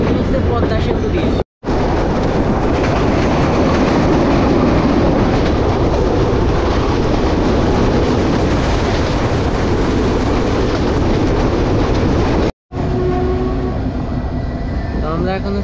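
A Benapole Express passenger train runs near Poradah Junction and Kushtia in Bangladesh, with a loud, steady rumble and clatter that fills the whole clip apart from two brief cutouts.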